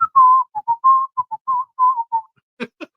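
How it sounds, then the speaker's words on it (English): A person whistles the Steamboat Willie tune, a run of clear, close, loud choppy notes in a bouncy rhythm, followed by two short breathy bursts at the end. "Keep up that whistling."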